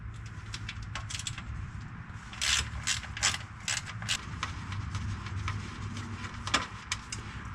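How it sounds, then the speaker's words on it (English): Angle-head ratchet clicking in quick bursts while loosening bolts on the 8L90 eight-speed transmission of a GMC Sierra Denali 6.2, close and fairly loud over a low shop hum, with no talking. "That's where this angle headed ratchet works out pretty good."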